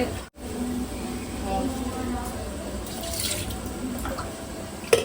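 Water is poured from a tumbler onto soaked rice, a steady close splashing trickle that runs throughout, with a brief clink near the end.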